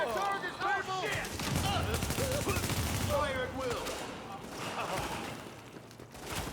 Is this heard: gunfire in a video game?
yes